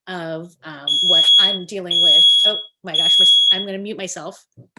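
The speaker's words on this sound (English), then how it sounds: "that was my smoke alarm needs a new battery" A home smoke alarm that needs a new battery sounds three long, high electronic beeps at a steady interval, heard clearly beneath a person talking close to the microphone.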